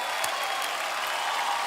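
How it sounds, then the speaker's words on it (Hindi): Studio audience at a TV comedy talk show applauding loudly for the players, a thick continuous roar of clapping, close and even throughout. "एक बार जोरदार तालियां हो जाए हमारे सभी खिलाड़ियों के लिए।"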